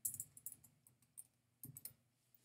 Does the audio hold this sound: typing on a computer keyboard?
yes